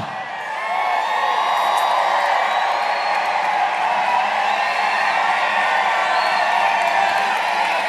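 A large crowd at a Donald Trump campaign rally in Moon Township, Pennsylvania, cheering and whooping in a sustained loud roar with no break.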